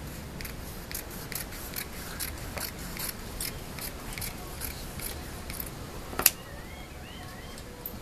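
Scissors snip through fabric for a bow-band circle skirt, a series of short repeated crisp cuts over a low background hiss, with one sharper snap near the end.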